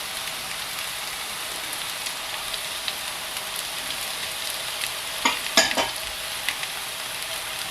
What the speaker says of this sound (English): I'm going to let the celery cook down for a couple of minutes